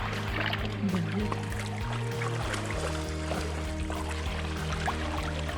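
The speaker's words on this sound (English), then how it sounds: "we walked across this little stream that's so clean" A small, clean, cold stream flows steadily over the ground in rural Southern Leyte, its broad watery rush filling the scene at close range. Low engine-like hum and harmonic tones run underneath throughout.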